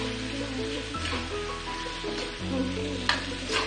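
Lentils frying in a pan with banana stem, a soft continuous sizzle beneath a steady tonal hum, with one brief clink near the end.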